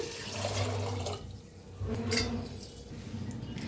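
Water pours into a pressure cooker holding washed chickpeas, a steady splashing rush that briefly eases before continuing, close and moderately loud.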